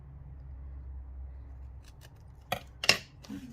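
Scissors snip through vellum paper for a crafted tag in a short run of close, crisp cuts, two sharper snips standing out near the end amid quiet room tone.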